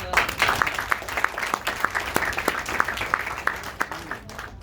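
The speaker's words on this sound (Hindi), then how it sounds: "इतनी छोटी ताली उसके लिए।" Short burst of audience clapping at a hotel training session, moderately loud and uneven, mixed with some crowd noise and scattered voices, fading toward the end.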